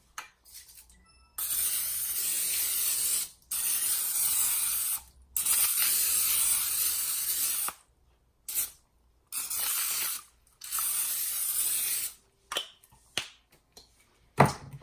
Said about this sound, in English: So I have my olive oil spray.